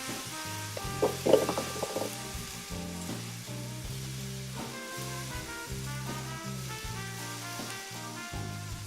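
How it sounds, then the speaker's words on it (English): A mayonnaise-coated burger bun toasts on a hot griddle for a green chile burger, giving a steady, soft sizzle with faint crackles and a brief scrape near the start. "We're going to go ahead and toast our bun."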